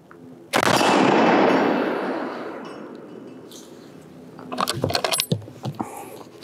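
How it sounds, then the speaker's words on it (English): A single loud 7mm rifle shot, a 7x64 chambering, cracks out close by and rolls into a long decaying echo, followed by metallic clinks and rattles of handling. "So we'll just drop a round in, and you can see way down there is what I'm shooting at"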